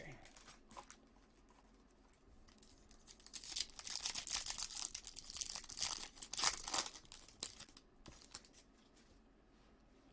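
Scissors slice open the foil wrappers of 2020 Bowman's Best baseball trading card packs, a dense crinkling, snipping burst of a few seconds up close, with someone talking before and after.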